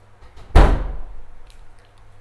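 A door swings shut with one loud, close thud, followed by a short fading rumble in a quiet room.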